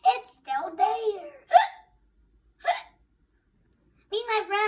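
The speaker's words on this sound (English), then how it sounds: "Oh, I'm also having the hiccups too." A child hiccups several times, each sharp gulping hiccup breaking up short bursts of the child's own speech, close and clear with quiet gaps between.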